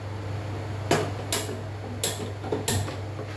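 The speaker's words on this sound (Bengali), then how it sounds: "এবার ঢেকে দেবো আর গ্যাসটা ধরিয়ে দেবো" Four sharp metallic clicks and taps ring out close and crisp over a low steady hum, as a lid goes onto a pot and a gas stove is lit.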